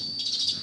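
Sparrows chirp beside a glue trap in a short, high, bright burst of tweeting heard alone.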